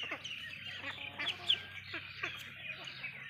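Pak Nam ducks on a duck farm quack and call in scattered bursts, fairly faint against a low steady background hum, with several birds overlapping at a moderate distance.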